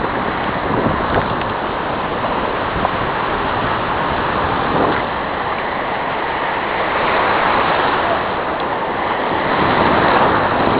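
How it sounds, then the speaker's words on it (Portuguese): Ocean waves washing onto a sandy beach in Santa Catarina, a continuous loud roar of surf with gentle swells and receding water, mixed with wind buffeting the microphone. "quando a água volta com uma força"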